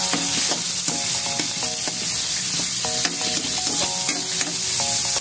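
Onion sautéing in a hot pan for Bicolano pancit bato guisado, a steady close sizzle with repeated spatula clinks and scrapes of stirring throughout, no voices.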